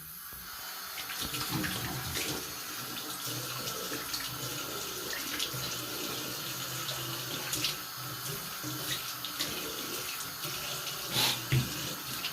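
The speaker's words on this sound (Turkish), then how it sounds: "Su böyle boş boşa akıyor." Water pours steadily from an open tap, a continuous close splashing rush that lasts the whole time with a few small knocks and clinks mixed in.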